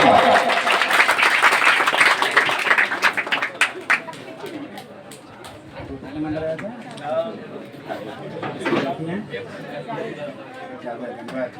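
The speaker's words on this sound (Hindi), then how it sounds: "तो इसी के साथ कल सभी जो 414 नंबर प्राप्त किए उनके लिए एक बार जोरदार तालियां" Crowd clapping for students with top exam marks at a coaching centre result ceremony in a Bihar village, loud at first then fading into scattered claps amid children's chatter and babble.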